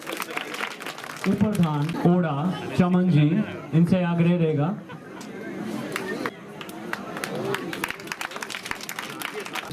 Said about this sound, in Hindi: तालियां बच्चे बजती रहनी चाहिए